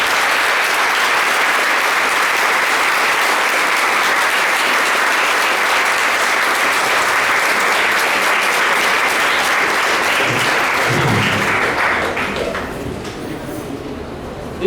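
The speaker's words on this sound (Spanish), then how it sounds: "Y quiero pedir un aplauso muy fuerte nuevamente para él." A loud, sustained audience ovation for a young poet at a literary event, dense clapping filling the room before tapering off near the end.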